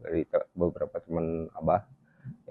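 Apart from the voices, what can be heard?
No everyday noise stands out behind the speech.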